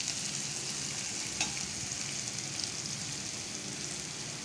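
Fish roe frying with green chillies in a pan, giving a steady, dense sizzle that holds evenly throughout with no voices.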